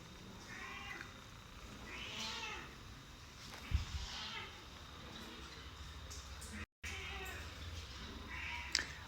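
Several cats meowing indoors at a pet shop in Dubai, repeated drawn-out mews at moderate distance over a steady background hum, with people talking faintly throughout.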